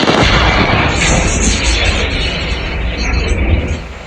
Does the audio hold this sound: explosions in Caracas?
yes